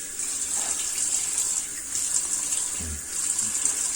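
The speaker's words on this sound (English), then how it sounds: "Warm water thoroughly until there is nothing else comes off your hair." Warm water runs steadily from a tap, rinsing dye out of hair: a constant close hiss and splash with faint gurgles underneath.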